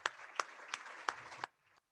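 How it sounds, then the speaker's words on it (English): Applause at a Rotary Club weekly meeting, a short burst of soft crowd clapping with a few louder claps that stops abruptly and leaves a brief quiet tail. "Let's give him another round of applause."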